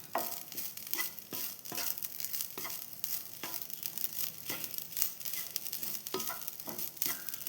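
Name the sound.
jaggery, coconut and sesame mixture sizzling while heated in a pan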